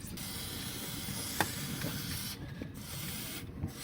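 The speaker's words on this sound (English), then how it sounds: "that looks pretty rusty to me, so I'm going to squirt some WD on there" WD-40 is sprayed onto a rusty actuator on a Land Rover Discovery 3, giving short hissing squirts with brief pauses, close and fairly faint over a steady background noise.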